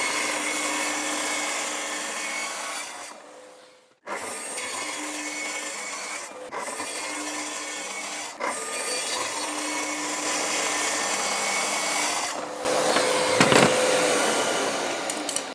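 Tracksaw cutting thin wooden strips at a cutting station, a steady loud whining roar of the saw through wood with brief stops between cuts, heard close with no talk.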